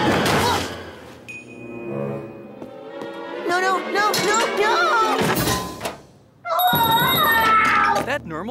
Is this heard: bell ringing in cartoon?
yes